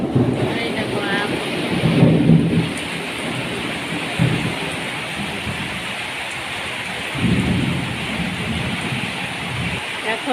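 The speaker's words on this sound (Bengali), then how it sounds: "দেখো প্রচণ্ড বৃষ্টি হচ্ছে, দেখেছ?" Heavy rain pours steadily onto surfaces during an afternoon thunderstorm, with low rolling thunder swelling several times, loud and close, and voices talking intermittently over the downpour.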